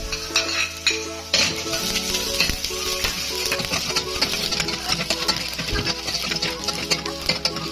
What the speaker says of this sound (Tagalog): Lagyan natin na yung bawang.